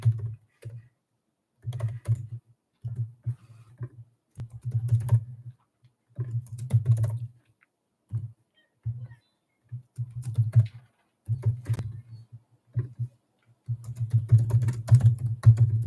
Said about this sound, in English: Sorry, I'm typing in this poll.